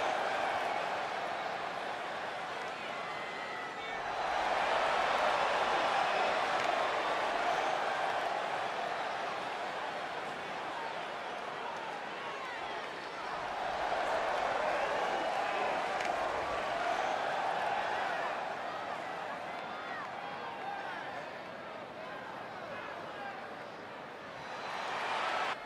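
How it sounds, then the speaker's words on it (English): A virtual arena crowd in the WWE 2K20 wrestling game roars in two big swells before a Cora Jade versus Chyna match, with a steady murmur between the peaks and commentator voices underneath. "Listen to this crowd, guys. They're fired up for this one."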